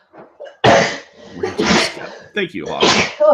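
A person sneezes sharply and loudly on a live chat stream, followed by more bursts and quick spoken thanks close to the microphone.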